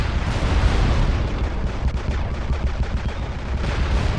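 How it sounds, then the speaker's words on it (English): Gunfire in the mech combat game MechWarrior Living Legends, a dense, continuous roar of rapid shots and booming impacts, loud and sustained throughout without pause. "Who's shooting?"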